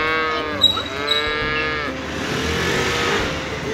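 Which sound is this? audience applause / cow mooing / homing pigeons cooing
cow mooing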